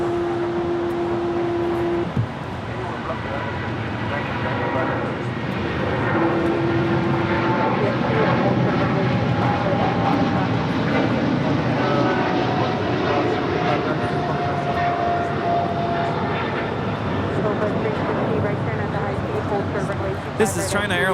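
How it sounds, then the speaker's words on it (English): A China Airlines Boeing 777 freighter departs LAX with a broad, sustained jet roar that holds steady and close for the whole stretch, with nearby voices talking over it. "This is China Airlines 5224 cargo departing to Miami on a 777 freighter"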